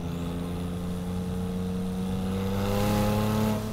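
A 1,000 hp Porsche 911 Turbo pulls hard in third gear from around 4,000 RPM, a steady loud engine drone with rising harmonics that swell toward the end, heard up close from inside with no talking.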